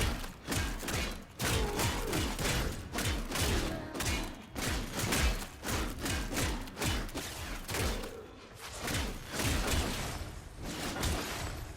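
Fragor Prime hammer in Warframe smashing into armored enemies, with a steady run of heavy, loud thuds and crunching impacts repeating every half second or so amid whooshes and combat noise, without speech.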